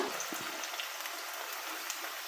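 Quiet, steady sizzling of garlic and shallots sautéing in a pan, a soft continuous crackle with faint light pops.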